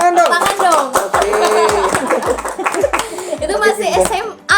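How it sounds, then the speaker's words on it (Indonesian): A small audience applauding during a podcast, brisk claps mixed with chatter and light laughter, with voices speaking over the clapping throughout. "Tepuk tangan dong, semua tepuk tangan dong."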